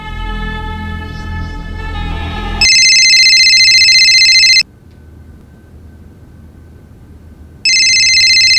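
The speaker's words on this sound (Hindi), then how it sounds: "फोन उठाओ" An electronic telephone ring, loud and close, with two long shrill ringing bursts separated by a pause, following a swelling musical tone, with no talk.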